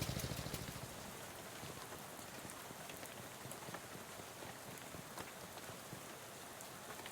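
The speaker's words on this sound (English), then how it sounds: "He smiles and looks up and lets rain splash on his face for a while" Steady rain pours down in the video game Shadows Over Loathing, a dense, even patter of drops, soft but continuous, with no voices.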